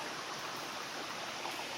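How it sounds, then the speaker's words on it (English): A stream flowing beside a hiking trail on the Long Trail near Pine Cobble, a steady broad rushing hiss of water, close and constant. "Nice sounds. And the water going down that way."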